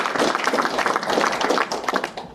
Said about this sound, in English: I thought there would be more clapping.